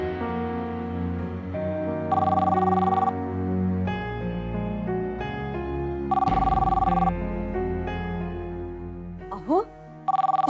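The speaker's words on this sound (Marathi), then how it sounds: "अहो, श्रेयसचा फोन असणार." A telephone rings in a Marathi TV serial scene, with two sustained electronic ring bursts a few seconds apart over background music and room tone.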